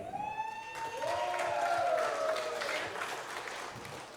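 Applause and cheering break out for a prize winner at an anglers' meeting opening ceremony, with a rising whoop or whistle cutting above the clapping before the crowd noise settles into steady applause.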